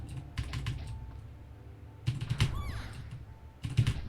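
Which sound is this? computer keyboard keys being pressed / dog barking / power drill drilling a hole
computer keyboard keys being pressed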